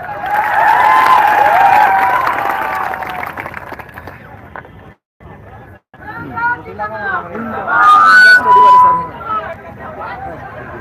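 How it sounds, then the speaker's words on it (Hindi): A crowd at a rally in Hazaribagh gives a strong burst of applause mixed with cheering and chatter. A speaker's voice comes through over the noise, and the clapping fades, then swells again near the end. "एक बार ताली हो जाए"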